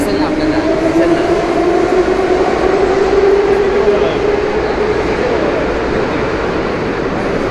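A St. Petersburg metro train rolls into the station with a loud rumbling roar and a rising-then-falling motor whine, heard up close in the underground.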